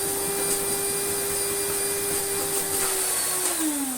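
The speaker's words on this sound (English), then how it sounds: "It's going to take me a long time to vacuum my entire house." An Electrolux Slimline Mk2 156 vacuum cleaner runs with a steady, loud motor whine and airy rush, its pitch sagging slightly in the last moment.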